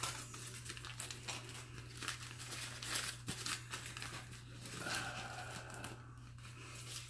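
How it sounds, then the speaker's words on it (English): Soft, close crinkling and rustling as black decorative tissue paper and wax paper are peeled off a bar of artisan shave soap. The sound is quiet and steady, with no talking. "So it's double wrapped, decorative black tissue paper, and then a standard kind of wax"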